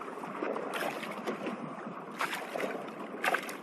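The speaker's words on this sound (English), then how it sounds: "The boat's moving." A fishing boat moving across water during smallmouth bass fishing, giving a soft, steady wash of water and hull noise with a few faint splashes, fairly quiet and without talk.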